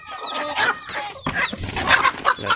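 Backyard chickens clucking up close, several birds making irregular short calls and soft chatter in quick succession.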